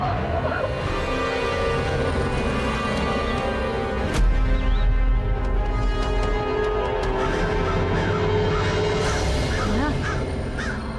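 Several crows caw repeatedly, their harsh calls rising and falling over a steady background with a sudden loud thump partway through and a voice occasionally present.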